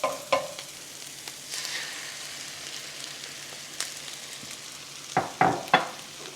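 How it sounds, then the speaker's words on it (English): Eggs poured into a pan with potatoes and chorizo fry and sizzle steadily, broken by a few sharp scraping and stirring clatters from a utensil, close up with no talk. "pour the eggs directly in with the potatoes and chorizo and get that cooked"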